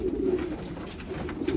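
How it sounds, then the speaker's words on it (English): Pigeons coo in a loft, a low, soft, continuous burbling with overlapping calls that rise and fall close by, steady throughout with no voices. "All the birds are down eating their food."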